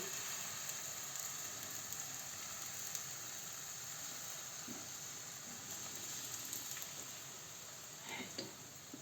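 Thin Ukrainian potato pancakes fry in oil in a pan, giving a soft, continuous sizzle and hiss with occasional faint pops and utensil clinks, fairly quiet and close.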